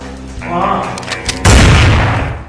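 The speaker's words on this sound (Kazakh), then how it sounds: "пистолетімен ат" A single loud pistol shot bursts out sharply and then rings into a broad, noisy tail, after a stretch of quieter tonal background.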